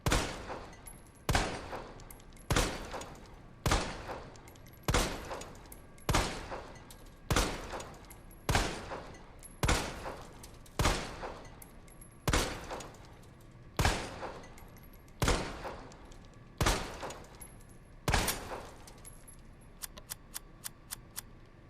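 Handgun fired repeatedly in Resident Evil 2 Remake during Claire's story: about a dozen loud, sharp shots at a slow, steady pace, each with a short decaying tail, ending in a quick burst of faint clicks.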